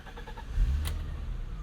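A 1987 BMW 325is E30 with a five-speed manual catches on the starter: a few quick cranking pulses, then the engine fires with a low burst and settles into a rough idle, close up.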